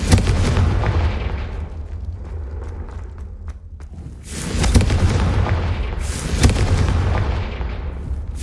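Booming blasts from Hogwarts Legacy's explosive Confringo spell, cast again and again, come loud and close, with a brief lull partway through before fresh heavy bursts return.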